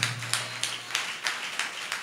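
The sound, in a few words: audience clapping hands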